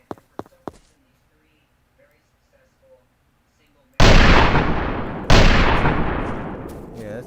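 Two loud, close Model 1894 rifle gunshots in a video game, each a sharp blast with a long decaying tail, the second following about a second after the first, preceded by a few small clicks.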